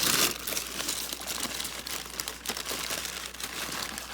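Roasted garbanzo beans are shaken on brown paper, producing continuous close crinkling and rustling with scattered light rattles throughout.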